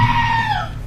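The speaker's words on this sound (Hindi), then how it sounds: "मैं इस चिल्लाने वाली बकरी को सुन रहा हूँ ना" A goat lets out a single loud, close scream, a strained falling cry lasting under a second.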